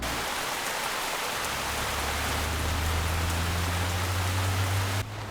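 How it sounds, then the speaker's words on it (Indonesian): Steady rain pours down in an animated cartoon town after a storm, a dense continuous hiss with a low rumbling undertone, filling the scene without talk before cutting off abruptly near the end. "Ditambah hujan seperti ini."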